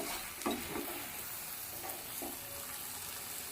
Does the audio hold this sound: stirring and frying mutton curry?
yes